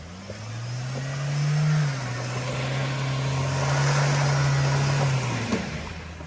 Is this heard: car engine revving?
yes